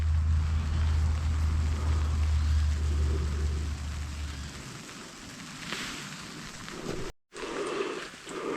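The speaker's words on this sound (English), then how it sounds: "Shasta Boulevard, that's traffic you're hearing right there." Road traffic on Shasta Boulevard on a foggy day: a steady wash of tire and engine noise with a deep rumble of a passing vehicle in the first seconds, then a lighter, hissing flow.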